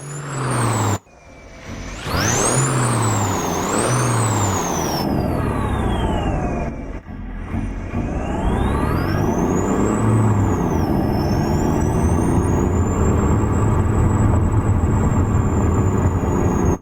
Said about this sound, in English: Listen to the turbos winding there.